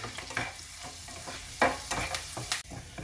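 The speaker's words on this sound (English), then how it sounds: "So we're gonna saute the garlic until it becomes brown." Garlic sautés in a hot pan for a vegetable biryani, with a steady close sizzle of frying and scraping stir strokes at irregular intervals, and no voices.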